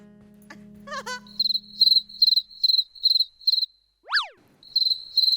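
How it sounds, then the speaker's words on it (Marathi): Crickets chirp at night in a steady series of short, bright, evenly spaced bursts close by, with a low hum and a brief voice near the start and a quick whistling sweep partway through. "रातकिडा आहे अजून"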